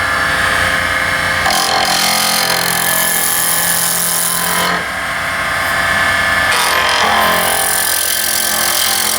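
A wood lathe spinning near 1800 RPM as a chisel turns a scalloped pen blank with copper, a loud continuous whirring scrape with a brief dip midway, no talk.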